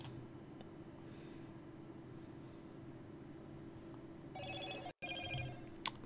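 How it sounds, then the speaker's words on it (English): A phone rings in short electronic trill bursts near the end, faint against steady low background hum, with a brief dropout between rings, during Minecraft Skyblock play. "Sorry for my phone going off."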